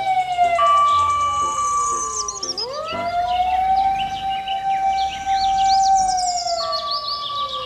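Toy fire truck siren wailing with rising and falling electronic tones, loud and close, joined by chirpy electronic bleeps.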